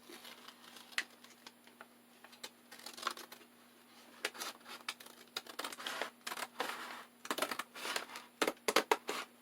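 Crisp snipping and rustling of paper, sporadic at first and then a denser burst of quick cuts near the end, close by with no talking.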